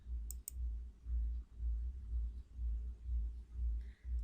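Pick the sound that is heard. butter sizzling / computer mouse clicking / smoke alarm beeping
computer mouse clicking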